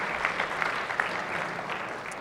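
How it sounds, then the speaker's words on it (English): Applause fills a Senate chamber as visiting students are welcomed, a steady dense wash of many hands clapping that lasts throughout at an even, moderately loud level. "applause."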